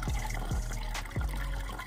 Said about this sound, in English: go ahead and fill it up with water and then check where everything's coming out at.